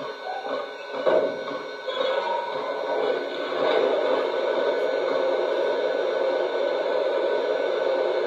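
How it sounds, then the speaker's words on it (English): Water and coal fill-up effects from a Lionel Legacy Strasburg #89 2-6-0 Mogul model locomotive: a continuous rushing, splashing noise with a few scraping clunks early on, steady and close for about eight seconds, with no speech. "Here is the water and coal fill-up sounds."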